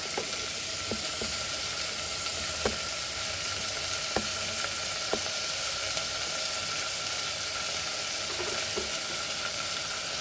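Drumstick and potato pieces sizzling in hot oil seasoned with hing for sambar, a loud, steady hiss that runs unbroken, dotted with occasional sharp pops and clicks, with no speech.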